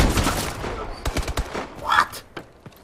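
Video game gunfire cracks out in uneven bursts of quick, sharp shots, some clustered into rapid volleys and others isolated, fading toward the end.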